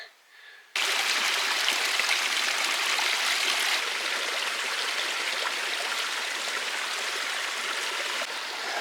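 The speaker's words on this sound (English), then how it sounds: "I gotta drop down, cross a creek, and then regain all that elevation." Outdoor creek on a hunting hike, a steady broadband rush of flowing water that starts abruptly and stays loud and close throughout, with no talk over it.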